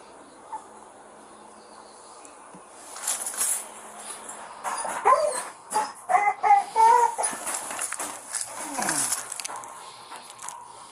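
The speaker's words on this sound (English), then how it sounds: "we got a bunch of little puppies in here." Small rescue puppies whimper and give high squeaky yelps in a run of short bursts, fairly close, over a quiet background with a faint insect-like hum.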